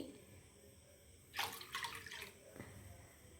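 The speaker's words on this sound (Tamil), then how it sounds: "நம்ம அதில் 3 கப்பு தண்ணி ஊற்றிடுறோம்" Water splashes briefly into a pot for a second or so while making thattai, quiet and close, over a faint background hum.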